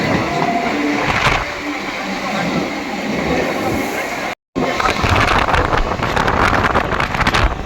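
A train rumbles past near a crowded level-crossing gate in suburban Kolkata, a loud steady roar with wind buffeting the microphone, briefly cut out midway then resuming with clattering wheels.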